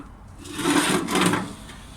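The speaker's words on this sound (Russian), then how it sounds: "При открытии топочной дверки появляется доступ к выдвижному зольному ящику." Firebox door of a steel corner stove-fireplace, the Meta Pekhorka 6, swings open and its ash drawer slides out, giving two close, rough metallic scraping bursts with no talk.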